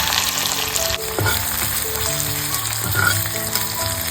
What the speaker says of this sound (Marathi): इकडे आपला कांदा मस्त फ्राय झालेला आहे